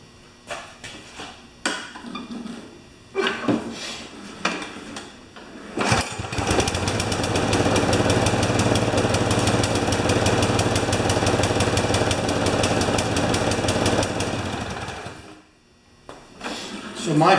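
A Husqvarna lawn mower engine starts after a few short pulls and clanks, then runs steadily and loud for about eight seconds without climbing in speed before cutting out, with brief talk at the end.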